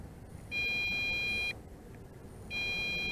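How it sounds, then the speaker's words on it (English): Electronic beeping from an MJX Bugs 2SE drone in return-to-home mode: two steady high-pitched tones, each about a second long, separated by a short gap, over faint background noise. "the beeping is more constant now, so we are in second phase of return to home"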